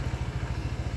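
A 2025 Honda PCX 160 scooter engine runs with a low, rapid, slightly rough pulsing throb, steady and fairly quiet, with no talk over it.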